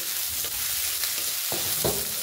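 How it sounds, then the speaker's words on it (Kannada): Curry leaves sizzle in hot oil in a pan with onion and green chilies, a soft steady frying hiss broken by a few scraping stirs of a spoon, close and fairly quiet, with no talking. "ಇವಾಗ ಚೆನ್ನಾಗಿ ಸ್ವಲ್ಪ ಫ್ರೈ ಮಾಡ್ಕೊಳ್ಳೋಣ"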